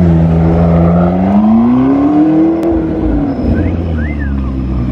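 A McLaren rolls off a trailer, its engine note rising steadily in pitch under a loud, close, continuous drone, with a brief mechanical whine near the end.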